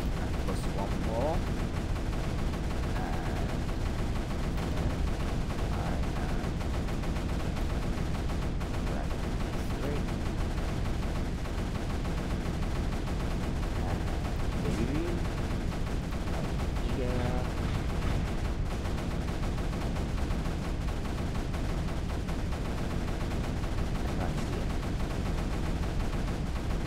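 A video game battle rumbles with continuous cannon fire. Booming shots and explosions overlap densely in an unbroken barrage that stays loud throughout.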